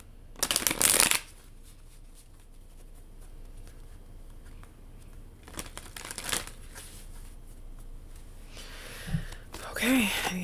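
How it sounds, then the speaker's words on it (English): Hoodoo Tarot cards being shuffled by hand: a loud riffling burst near the start, then quieter handling and softer shuffles later, with faint breathy sounds in between. "I'm gonna pull from the Hoodoo Tarot now."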